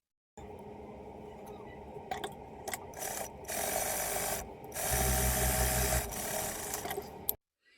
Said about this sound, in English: I'm gonna use my serger since this serger is industrial and it's for stretchy fabrics